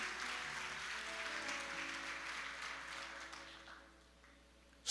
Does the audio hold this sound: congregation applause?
yes